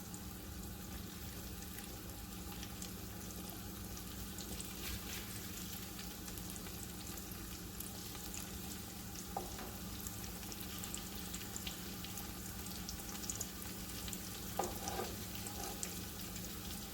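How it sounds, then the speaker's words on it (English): A chicken breast fries in a hot pan with a steady, faint sizzle that carries on without a break, with a few small pops near the end. "Yeah, you can hear it a little bit, but it's definitely hot enough as you can see the bubbles are forming around the chicken breast."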